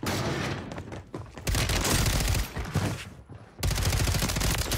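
Rapid bursts of video game gunfire, loud automatic volleys in several clusters separated by brief lulls, heard without talk.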